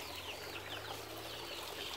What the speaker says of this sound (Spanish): Bien bonitos los pollos.